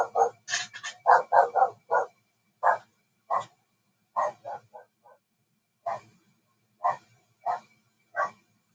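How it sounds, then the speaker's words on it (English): Jack, a dog, barks loudly again and again in a long irregular series of sharp single barks and quick clusters, close by and with nothing else heard. "He must have heard something, and his bark is very loud."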